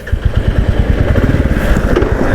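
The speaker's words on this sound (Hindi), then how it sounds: "और अब करते हैं बाइक को स्टार्ट और चलते हैं फिर यहाँ से" A Royal Enfield Classic 350 BS6 motorcycle, freshly serviced, runs with the loud, close, evenly pulsing thump of its single-cylinder engine, steady beats throughout.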